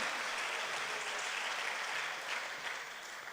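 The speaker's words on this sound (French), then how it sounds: "Acclamez plus fort le Seigneur, que nos amis sur Zoom puissent nous entendre ce soir" A congregation claps and cheers loudly in a steady, dense wash of applause that tapers off slightly at the end, with no voices standing out.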